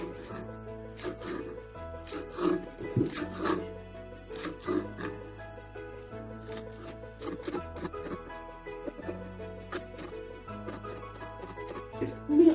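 Rapid knife chops through peppers on a cutting board, in irregular bursts of sharp taps over a low steady hum, close by.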